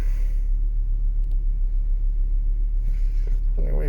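An Audi 80/90 engine, idling after an ignition switch replacement, gives a steady low rumble throughout with little variation in level.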